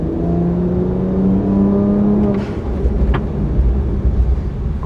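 BMW 1M accelerating hard back up to speed after a braking stop, engine note rising steadily through a gear, then a shift into broadband road and wind roar with no talk.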